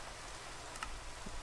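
Steady, faint rain hisses evenly throughout in a Minecraft game world, with no voices and no distinct drops standing out.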